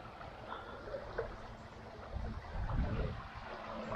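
Rushing floodwater from a river overflowing around a riverside bivouac camp in Portugal, a steady low churning roar with no speech, growing slightly louder toward the end.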